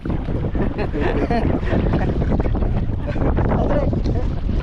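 A fishing boat heading home across a rough sea with growing waves, giving a loud, continuous roar of wind, water and hull noise that fills the whole stretch with no pauses.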